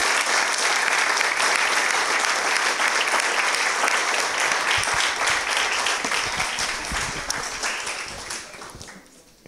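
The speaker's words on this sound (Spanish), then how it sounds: "Un aplauso para Miguelito y para este hermoso." An audience at a book launch breaks into sustained applause, thick and loud at first, then gradually thinning out as the clapping fades over several seconds.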